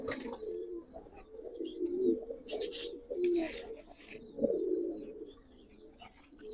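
Several Giribaz pigeons coo nearby in low, throaty, rolling calls that overlap and repeat, with faint higher chirps now and then in the background.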